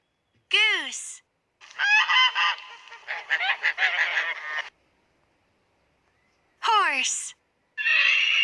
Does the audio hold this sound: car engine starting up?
no